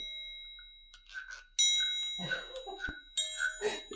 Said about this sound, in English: This is the sound of incense.